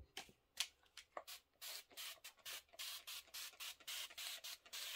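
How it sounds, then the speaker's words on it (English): Repeated short hisses of a spray bottle of Best Press spraying fabric pieces, quick bursts at first, then a steady run of evenly spaced sprays, close and fairly quiet. "I'll just spray them all and then"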